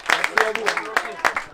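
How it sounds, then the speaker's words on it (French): A handful of sharp, uneven claps for volunteers at a youth U11 football tournament in Foix, heard close by with talk running over them. "qu'on soit capable de les applaudir comme ils le méritent"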